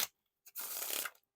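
Riffle shuffle of a Midnight Noc playing card deck by Theory11, heard as a short close flick and then a quick dense purr of cards, about half a second long, with no talk.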